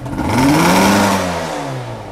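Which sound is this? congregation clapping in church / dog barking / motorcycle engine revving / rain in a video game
motorcycle engine revving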